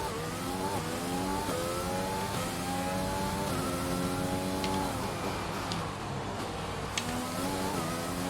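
A Ferrari race car in an F1 video game at the Melbourne circuit in Australia, its engine revving up through repeated rising gear pulls with a steady loud roar throughout and no talk.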